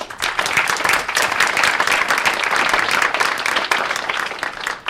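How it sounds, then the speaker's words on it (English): A room full of people applauding a speaker, dense, sustained clapping that holds steady for several seconds before easing slightly, heard from within the crowd with no voice over it. "you get applause before you open your mouth"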